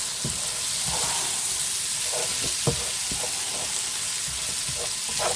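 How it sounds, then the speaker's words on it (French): Onions, garlic and shallots fry in a pan with a steady, close sizzle, with brief stirring scrapes breaking through at irregular intervals; no one speaks. "Donc on fait bien revenir les oignons, l'ail et les échalotes."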